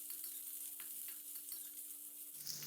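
Sliced onion, curry leaves, bay leaf, fennel, cinnamon and cloves fry in oil for a chicken coconut milk curry, a soft, even sizzle throughout, fairly quiet, with a faint scrape near the end.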